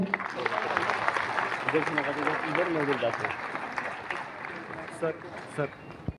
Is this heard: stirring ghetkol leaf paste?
no